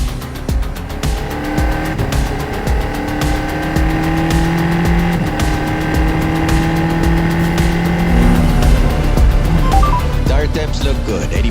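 A Formula 4 race car at the GP Explorer event races on track, its engine droning loudly in long rising and falling pitch sweeps from the cockpit, with tire noise underneath.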